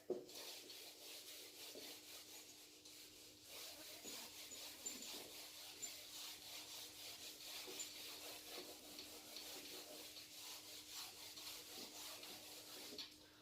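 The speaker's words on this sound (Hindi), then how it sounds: "इसको रब कर रहा हूं मैं" A board in a Class 10 science lesson being rubbed clean, a faint, continuous soft scrubbing that carries on steadily and alone, with no voices.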